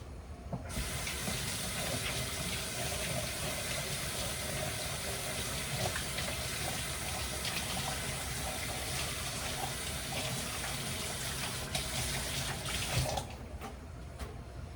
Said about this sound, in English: I'm gonna wash my hand again.